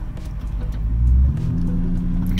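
A turbocharged Corvette drives on raised boost, its engine giving a steady deep rumble from inside the car that swells briefly into a louder surge midway, then settles back to a constant drone.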